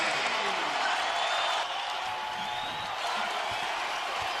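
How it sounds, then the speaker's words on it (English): Basketball arena crowd at a Boise State vs Utah State college men's game roaring in a frenzy, a dense, loud, sustained wash of cheering and shouting with no clear breaks. "Crowd in a frenzy right now."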